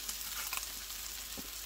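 Eggplant pieces frying in a pan, a continuous bright sizzle close up with a few brief crackles and stirring scrapes.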